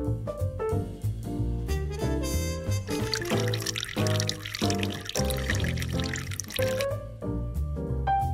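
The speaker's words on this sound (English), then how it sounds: "get the hot water from here." Hot water poured steadily from a tap into a tea cup at a Kura conveyor sushi restaurant in Japan, a gurgling trickle over background music that continues throughout.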